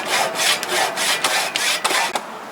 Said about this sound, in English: Run some sandpaper in there.